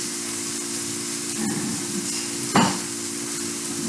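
Minced meat sizzles in hot oil with onions in a pan, a steady close frying hiss with faint stirring scrapes and one brief louder sputter near the end.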